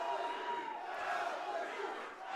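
A wrestling crowd roars and cheers at a championship match, a sustained dense wall of voices from the arena audience that holds steady and dips slightly at the end.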